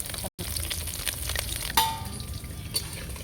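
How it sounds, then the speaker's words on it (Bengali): Small puti fish (pool barb) frying in hot oil in a pan, a steady close sizzle running throughout with a brief dropout near the start and a few light clinks. "হালকা লাল করে মাছগুলো ভেজে নেবো"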